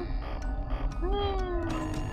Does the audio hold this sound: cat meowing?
yes